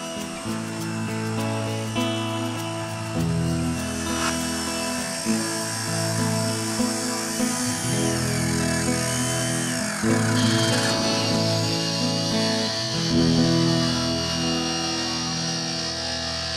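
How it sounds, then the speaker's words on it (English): A circular saw with a metal-cutting blade bites into a 500-gallon steel tank, sending out a continuous high, harsh whine whose pitch shifts as the blade works through the metal. The cutting runs steadily throughout, and no voices are heard. "The reason we're doing it with a skill saw is because with a torch, I just don't think that we'll do a good enough cut"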